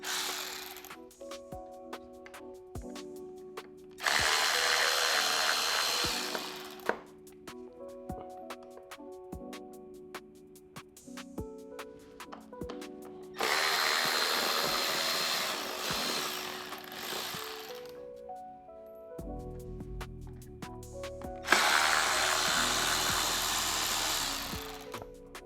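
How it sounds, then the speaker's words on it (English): A power driver backs four Torx screws out of a motorcycle airbox cover, coming as several loud whirring bursts separated by quieter handling sounds and clicks, close up with no talking. "4 screws getting removed."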